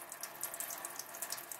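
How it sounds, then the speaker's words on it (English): A thin stream of water runs from a tap in a steady soft hiss with light splashy flutter, close and continuous, with no voices. "turn the water on really a thin stream"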